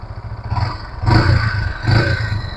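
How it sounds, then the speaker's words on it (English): Exhaust of a Yamaha XSR 155 motorcycle revved gently twice, each blip swelling from idle into a louder rasping burst before settling back. "now let's hear the exhaust note."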